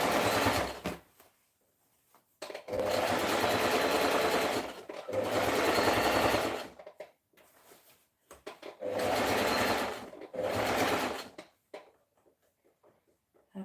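A home sewing machine stitches in several sustained runs of a few seconds each, loud and close, with short pauses between bursts and no talking over it.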